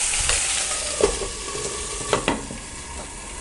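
Raw banana pieces fry gently in a pan over low heat, giving a soft continuous sizzle with a few brief stirring clinks, close and quiet.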